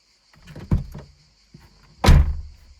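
A BMW E36 with a six-cylinder engine, bought abandoned: a door shuts with a muffled thunk, then a second heavier slam follows, with faint relay clicks and a steady electrical whine nearby.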